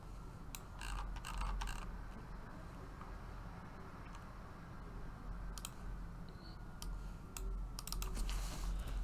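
Typing on a computer keyboard, a close, fairly quiet run of irregular key clicks and taps in short bursts over a steady low room hum, with no voice heard.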